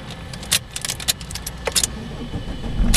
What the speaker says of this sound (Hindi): देख सकते हैं आप गाड़ी स्टार्ट हो चुकी है